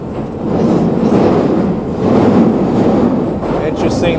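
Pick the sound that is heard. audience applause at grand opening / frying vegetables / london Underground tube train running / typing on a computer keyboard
london Underground tube train running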